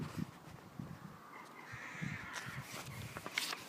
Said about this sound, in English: Crows, high up, weave scrawled script in the Mornington ether.